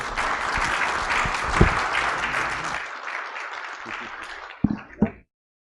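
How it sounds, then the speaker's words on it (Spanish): A conference audience at a national mining congress gives departing guests loud, dense applause that thins out and ends in a few scattered, isolated claps. "Despedimos a nuestros invitados de lujo con un fuerte aplauso"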